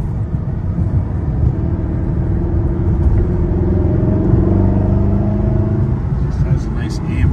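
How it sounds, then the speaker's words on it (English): A 2012 Mercedes-Benz SLS AMG coupe engine roars steadily while driving, a loud continuous low rumble with rising and falling harmonics across the whole stretch. "This has a nice AMG roar to it."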